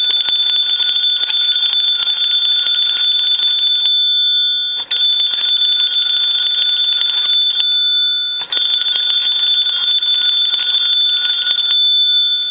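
A Wesco wooden wall crank telephone's magneto rings a small test bell during repair. The bell gives a loud, continuous metallic trill in three long stretches, each broken by a brief pause.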